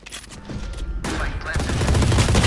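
Rapid automatic gunfire from a machine gun in the tactical shooter Valorant, a dense, sustained burst that grows louder and busier toward the end, with a brief voice underneath.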